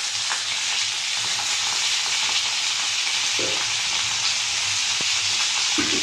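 Fresh-cut okra sautéing in a pan for a lunch dish, a loud continuous sizzle with occasional spatula scrapes and stirring knocks, no talking.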